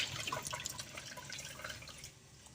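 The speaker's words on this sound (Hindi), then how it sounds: "ठंडे पानी से इसको धो लेना है।" Boiled potatoes rinsed under cold running water in a kitchen, a steady splashing and dripping stream lasting throughout, close and fairly quiet with no talking.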